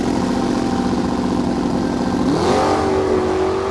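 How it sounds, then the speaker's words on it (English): A race car engine revs hard while racing in snow, a loud, close, continuous drone that climbs sharply in pitch near the end. "McQueen was enjoying racing in the snow"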